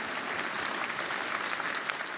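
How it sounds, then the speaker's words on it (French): Audience at a Jean-Luc Mélenchon political rally in Nantes claps steadily, a dense, even wash of applause from a large crowd that holds for the whole moment without pause. "Je note ceux qui applaudissent."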